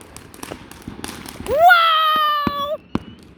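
Fireworks go off outdoors with scattered pops and crackles, then a loud whistling firework rises in pitch and holds a shrill tone for about a second before cutting off.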